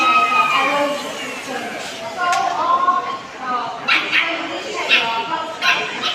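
Dogs whine and yip in high, wavering tones with a few sharper barks, mixed with nearby people talking over them.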